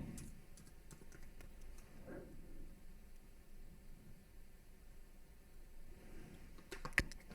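Quiet typing on a computer keyboard while entering a web address, with scattered soft key clicks, a brief flurry near the end and a faint hiss behind them.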